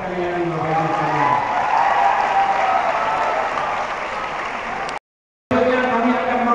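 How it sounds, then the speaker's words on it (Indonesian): A large audience applauds steadily at an evening award ceremony, a loud sustained wash of clapping with a voice over it, cut by a brief dropout near the end before resuming. "Boleh tepuk tangan sekali lagi Bapak Ibu sekalian."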